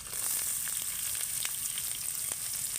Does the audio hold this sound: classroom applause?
no